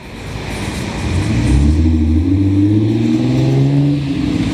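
A Hyundai Genesis passes on a shaded city street in Montreal, its engine note rising and swelling loudly as it goes by, then easing off near the end.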